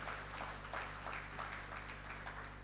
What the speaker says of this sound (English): If you want to clap, please clap